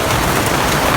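Steady rain pours down outdoors on a wet morning, a dense, even hiss of drops on surfaces that holds at a constant loud level for the whole second with no voices.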